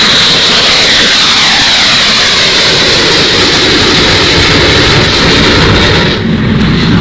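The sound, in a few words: British fighter jet aircraft flying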